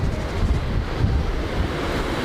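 Waves wash onto a cold, empty Pensacola beach in January, a steady loud roar of surf mixed with heavy wind buffeting the microphone and no voices.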